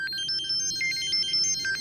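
A phone ringtone plays a bright, repeating electronic melody, loud and close, ringing on without being answered and with no voices over it.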